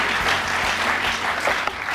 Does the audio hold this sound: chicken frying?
no